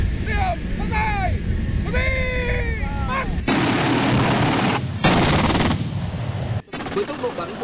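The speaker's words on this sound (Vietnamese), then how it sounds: "3 khẩu đầu pháo phòng không tự hành Su-23 tạo nên một lưới lửa phòng không dày đặc trùm lên đường bay của chiếc UAV M96" Su-23 self-propelled anti-aircraft guns with four barrels pour out dense, continuous bursts of automatic fire during a live-fire air-defence drill against incoming drones, loud and sustained, following a stretch of engine and background noise.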